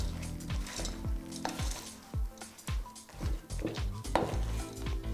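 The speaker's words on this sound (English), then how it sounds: "And I'm going to stir all this to incorporate." Cookie dough for a white chocolate chip cookie cake is stirred with white chocolate chips and sprinkles, giving a steady run of close, repeated scraping and thudding strokes against the bowl with no voices.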